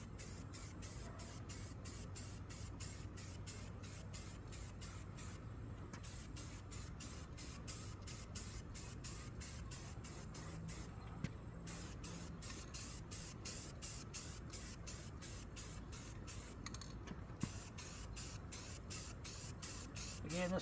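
A second coat of spray paint goes onto a welded rust repair on a car in a steady, even hiss, broken by a few short pauses, faint and close.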